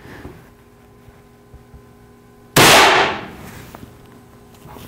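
A single sharp air rifle shot fires an 18-grain pellet, a loud close crack with a brief decaying ring, against a quiet backdrop with faint hum.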